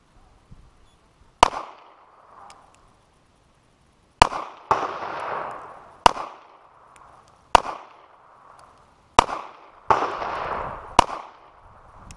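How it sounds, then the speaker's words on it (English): Sharp gunshots ring out at a shooting range, about nine loud cracks in irregular pairs and singles with a short echoing tail after each, separated by brief quiet gaps. "Oh, I see where you're shooting."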